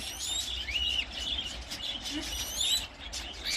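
Budgerigars and cockatiels in an outdoor garden aviary chirp and warble in rapid bursts, some whistled calls rising and falling, over a soft background hum.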